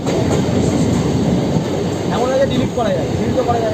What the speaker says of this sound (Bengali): এবারে একটা মেট্রো যাচ্ছে দেখতে পাচ্ছ